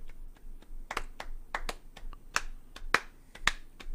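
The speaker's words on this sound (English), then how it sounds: "you got to do the gradual clap." A gradual clap in a morning radio-show studio, heard as single sharp hand claps, sparse at first and then louder and closer together, each one crisp and isolated against a quiet room.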